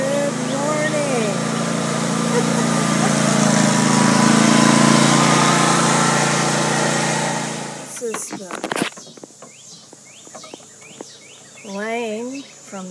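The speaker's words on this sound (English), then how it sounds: "Here comes Bradley on the mower to say hello" Riding lawn mower passing nearby, a loud steady engine whine that swells and then cuts off sharply partway through, leaving quieter outdoor sounds with bird calls while people talk.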